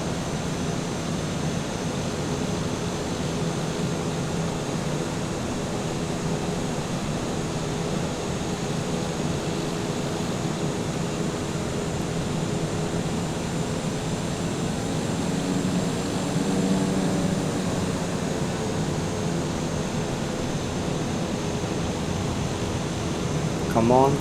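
Simulated airplane engine in Microsoft Flight Simulator during a flight from Aurangabad to Tirupati: a steady, even droning hum with faint tonal layers, continuous and unchanging at moderate loudness throughout.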